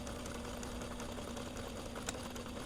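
Sewing machine running a basting stitch through waxed canvas for a fanny pack, a steady, even mechanical hum and fast needle rhythm, continuous and close, with no talk.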